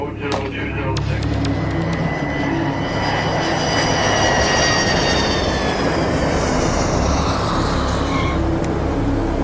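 Jet aircraft engine roaring loud and continuous on a landing approach, a prison transport plane at an airport runway, with a steady rushing drone and rising whine throughout.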